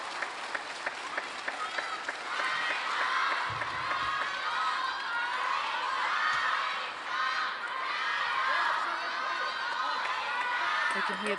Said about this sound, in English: You can hear the crowd cheering the name of Sung YINGSHA